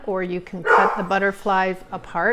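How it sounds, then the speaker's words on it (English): A pet dog barking and yipping indoors in a home craft room, several close, loud barks mixed in with someone speaking steadily over them. "and that was my dog."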